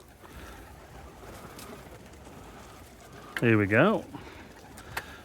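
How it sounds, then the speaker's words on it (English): Pigeons cooing at a backyard bird feeder: one close, clear coo stands out from quiet outdoor background, and a voice is heard briefly. "Pigeons are getting brave."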